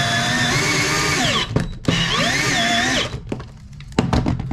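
A power drill whines as it drives self-drilling hex head screws through metal into an enclosed trailer, in two sustained runs that ramp and bog down with brief pauses, followed by a few thunks and clicks, loud and close.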